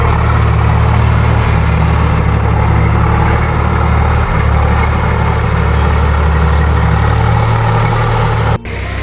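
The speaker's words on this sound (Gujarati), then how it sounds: "અને ટ્રેક્ટર ચાલુ છે" A farm tractor engine runs in a field during the monsoon, a steady, loud, low rumbling idle that continues unbroken for the whole stretch, with only a brief dip near the end and no voices.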